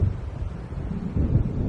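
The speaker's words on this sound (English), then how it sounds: "It seems there's a storm coming." Low, rumbling thunder from an approaching storm in Alan Wake, a brief dull roll that swells near the end, heavy and muffled, with no voices over it.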